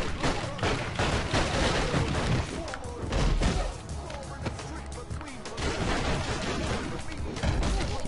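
Gun blasts and crashing hits in the Final Fight brawler game, dense and loud throughout with thumps mixed in and a voice talking over the action.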